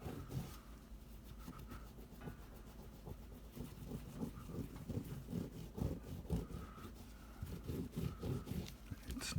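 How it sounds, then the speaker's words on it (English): Metal parts of a Floyd Rose guitar bridge being polished by hand, producing faint, close, rhythmic rubbing strokes that repeat steadily throughout. "Polishing metal."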